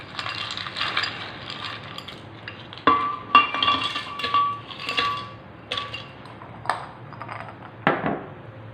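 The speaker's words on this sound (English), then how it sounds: "I will put some ice." Hard ice cubes clink and clatter against glass in several uneven bursts, close and crisp, with quiet pauses between drops.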